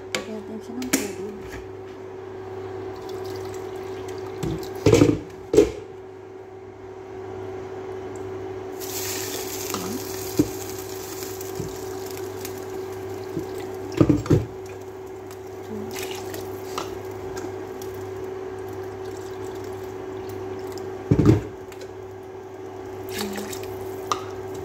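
Water is poured into a pot of rice for a home-cooked Sunday lunch, with soft splashing, drips and a steady liquid trickle under a constant background hum, punctuated by a few louder knocks and clatters.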